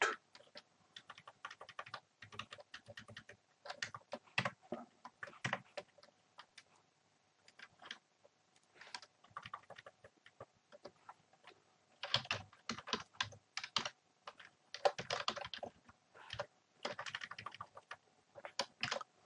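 Rapid typing on a computer keyboard, with steady runs of close, crisp key clicks broken by brief pauses across the whole stretch.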